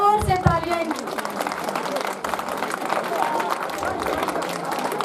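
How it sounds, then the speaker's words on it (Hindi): Students give loud applause at an annual prize distribution function at Government High School Paliur, a brief spoken voice giving way to a dense, steady burst of clapping from a crowd that holds for several seconds. "तो बेटा जोर से तालियां।"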